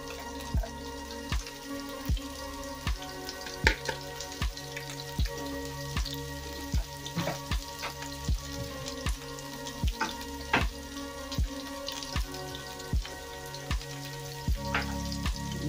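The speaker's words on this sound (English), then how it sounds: "So our chicken has been cooking for a total of 7 minutes." Chicken fries in a pan with a steady sizzle, broken by frequent sharp pops and crackles spread throughout, close by and with no talk.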